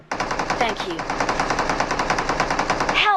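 Rapid automatic gunfire rattles on almost without a break in the Free Fire battle royale game, loud and dense, with bursts arriving from the side and a tower during a firefight.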